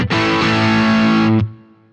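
Electric guitar played through a distortion amp model on a BOSS GT-1000 effects processor rings out as one loud, sustained, heavily saturated chord that cuts off sharply, leaving a short decaying tail.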